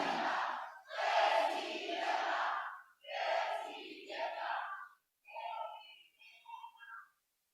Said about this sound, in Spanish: Que se oiga ese ánimo, que se oiga fuerte hasta la Ciudad de México.